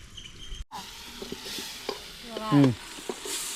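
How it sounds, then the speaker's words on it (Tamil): Onion, tomato and ginger-garlic paste fry in a pan with a soft steady sizzle, broken by a few clinks and scrapes of a spoon and a brief louder rasp near the end. "வெங்காயம் தக்காளி இஞ்சி பூண்டு பேஸ்ட்டு எல்லாமே நல்லா வதங்கி அந்த செமி கிரேவி பதத்துக்கு வரட்டும்"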